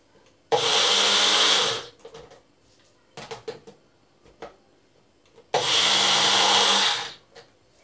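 An electric blender blitzes dried chilli peppers into flakes in two loud, whirring bursts of about a second and a half each, separated by quiet handling clatter and brief knocks.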